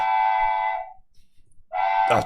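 A train whistle sounds twice, a long steady multi-tone blast followed after a short pause by a second blast, loud and close with no talking over it.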